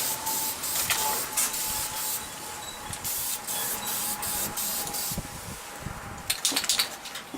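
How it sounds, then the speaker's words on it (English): An aerosol can sprays aluminium-coloured paint onto the head and rocker box of a Yamaha XS650 engine, a steady close hiss in repeated bursts with brief pauses and a few clicks near the end. "Try and paint all the bits that you can see which are aluminium colour."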